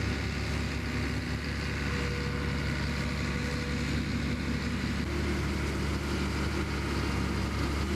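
A large broadacre tractor pulling a ten-furrow plough at a ploughing championship, a steady low diesel engine drone with constant rumble, sustained and moderately close without voices.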